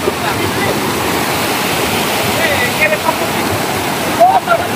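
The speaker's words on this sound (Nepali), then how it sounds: "पानी एकदम फोर्सले पानी गइरहेको छ।" Water rushes forcefully along a stream beneath a long snaking pipe, a loud, constant roar with no let-up, close to the listener.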